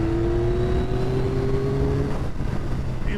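The engine of a 2025 Yamaha R9 motorcycle pulls hard under load with a steady rising whine that holds, then drops away as the quick shifter changes gear, loud and close, with wind rushing past.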